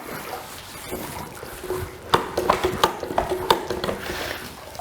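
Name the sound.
mop being loaded with water from a bucket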